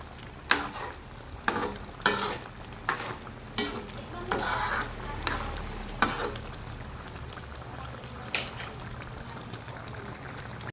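Chicken marinated in Coke is stirred in a pot as it cooks down, a series of distinct scraping, clattering spoon strokes at an irregular pace over a low bubbling simmer, no voices.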